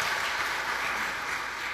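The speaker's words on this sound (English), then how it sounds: "Let's give another round of applause for fun things happening in town this weekend." An audience at a summit session claps with a steady, full round of crowd applause that holds dense and even throughout the short stretch.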